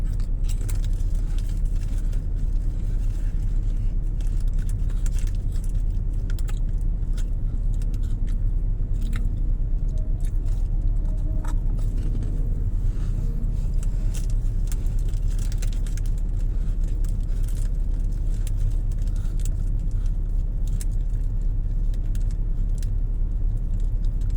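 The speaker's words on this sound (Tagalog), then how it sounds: "Sigurado sa EDSA to traffic." Road traffic along EDSA in Pasay at night, a continuous low engine drone of passing vehicles with frequent small rattles and clicks, steady and fairly close throughout.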